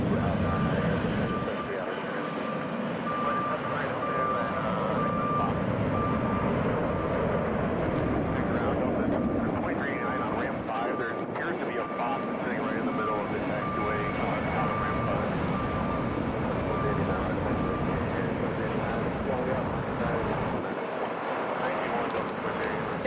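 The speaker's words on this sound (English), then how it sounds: "That's a Boeing 717 right there." Boeing 717 jet airliner at Hartsfield-Jackson Atlanta airport: a steady, distant jet roar with wind-like rushing that swells and eases slightly over a long stretch, with someone talking intermittently over it.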